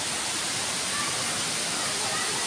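Hinulugan Taktak waterfall in Antipolo, a continuous dense roar of falling water, steady and close, with no break across the short stretch.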